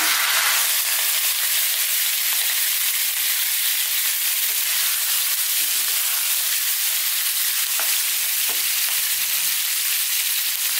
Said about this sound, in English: I'm going to drop in our belly pork and we're going to stir fry it for 5 to 6 minutes.